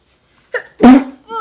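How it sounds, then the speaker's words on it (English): A single loud, close sneeze with a sharp intake beforehand, followed by a brief vocal murmur. "Oh, I feel like I'm gonna sneeze."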